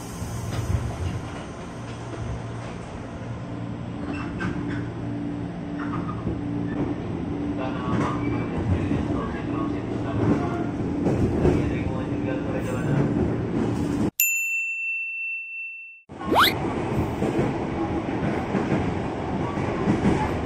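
A KRL commuter train rumbles and clatters at a Jakarta station at midnight, loud and close with rail noise throughout, then drops to a brief silence before a sharp squeal and more rolling noise. A tone chime sounds near the break, and a voice may be present.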